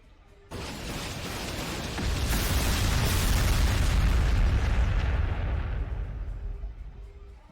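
Artillery shells exploding in the Warhammer 40,000: Sanctus Reach strategy game, a sudden loud boom followed by a sustained, rumbling roar of overlapping blasts that swells and then slowly fades.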